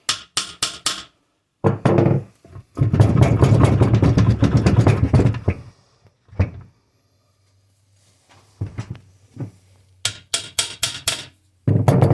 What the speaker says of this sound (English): I'm going to tap on the axle shaft.